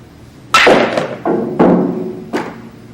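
A pool cue striking a billiard ball for a draw shot, followed by sharp clacks as the balls collide and hit the cushions, close and distinct.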